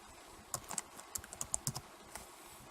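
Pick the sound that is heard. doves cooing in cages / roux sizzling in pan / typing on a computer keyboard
typing on a computer keyboard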